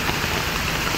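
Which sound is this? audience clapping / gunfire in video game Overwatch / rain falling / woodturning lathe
rain falling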